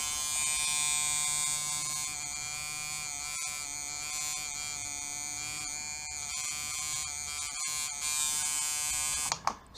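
A tattoo machine runs steadily at 4.5 volts with a close, continuous high electric buzz, even and unbroken until it cuts off at the very end with a few small knocks.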